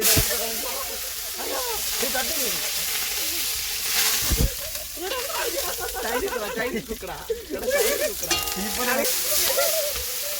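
Mustard seeds splutter and sizzle in hot oil in a pan during village outdoor cooking, a dense crackling hiss running throughout under steady talk and background voices.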